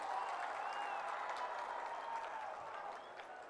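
An audience claps at a public ceremony welcoming guests in Punjab, a steady, distant wash of applause that carries evenly and fades slightly toward the end, with no voices over it.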